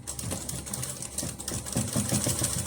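Sewing machine stitching the neck fabric of a kurti, a close, quiet, steady mechanical whir with rapid rhythmic needle pulses throughout.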